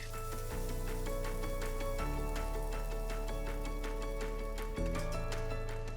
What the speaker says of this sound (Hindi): मैं इसमें डाल रही हूँ 2 टीस्पून अदरक लहसुन का पेस्ट, और इसको फिर से मिक्स करके पकाएंगे मीडियम फ्लेम पे